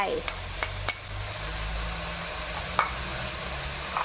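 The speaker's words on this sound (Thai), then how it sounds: "ผัดพริกแกง กับหมูให้คลุก" Pork belly is stir-fried with sour curry paste and shrimp paste in a pan: a low, steady sizzle runs underneath, broken by a few sharp clicks and scrapes of a utensil against the pan, close and quiet.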